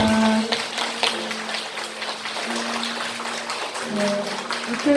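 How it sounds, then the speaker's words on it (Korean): Seated congregation claps in welcome and congratulation for new members at a Won Buddhist membership certificate ceremony, a steady dense wash of applause lasting several seconds with a faint tonal hum beneath. "합장 인사 환영과 축하의 박수 부탁드립니다"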